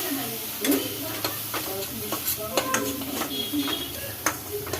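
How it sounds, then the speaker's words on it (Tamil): Spoon stirring a mixture of chilli powder, turmeric and salt in a pan, with soft scraping strokes and light sizzling at a steady, close-up pace throughout. "இப்போ இதை நல்லா மிக்ஸ் பண்ணிக்கலாம்."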